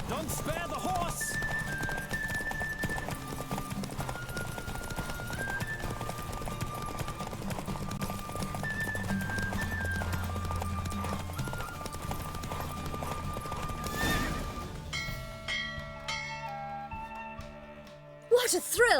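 Hooves of a galloping horse in The Witcher 3: Wild Hunt, a quick clip-clop rhythm running under game music that thins out and ends near the close.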